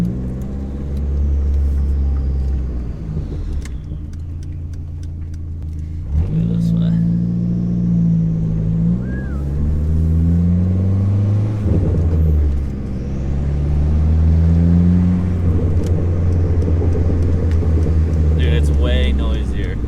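A four-cylinder car fitted with a 3.5-inch exhaust drones continuously while driving, a loud low rumbling hum that rises and falls with revs as someone talks over it.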